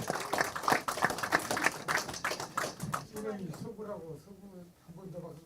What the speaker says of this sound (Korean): 한 번 더 박수 좀 주십시오